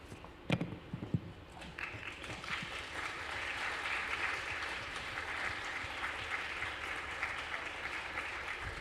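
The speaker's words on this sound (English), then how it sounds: "More applause, please" Audience at an architecture conference applauds award winners on stage: a few sharp claps at first, then sustained, even clapping from a sizable crowd that stays fairly soft and continuous.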